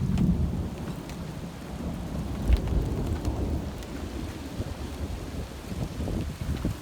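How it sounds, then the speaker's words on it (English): Hail and heavy rain pelt down outside during a severe April thunderstorm in Toms River, a steady dense hiss of impacts with occasional louder knocks, no voices. "Yeah, it is hailing out."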